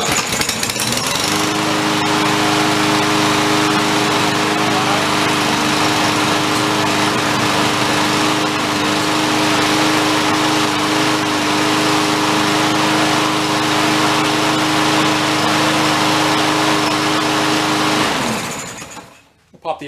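A junked lawn mower engine, restored and running with its choke closed, holds a loud, steady high-pitched drone for about eighteen seconds before cutting out and winding down to silence.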